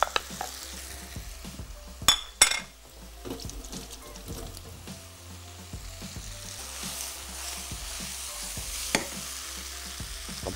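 Chicken frying with tomato, onion and green chilli, a continuous sizzle broken by repeated spoon scrapes and stirring clatter against the pan, with two sharp metallic knocks early on, close and fairly loud.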